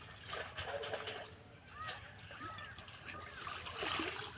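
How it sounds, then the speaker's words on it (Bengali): Mustard greens being rinsed in water, giving a run of soft splashes and sloshes close by with some indistinct background noise. "শাকটা ধুয়ে নিচ্ছি।"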